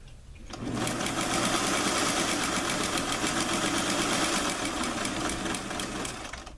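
A sewing machine runs steadily for about six seconds, stitching a basting seam on plaid suit fabric, close and loud with an even rapid mechanical whir and no talking.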